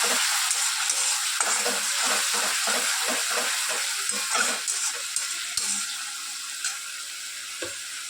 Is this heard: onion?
yes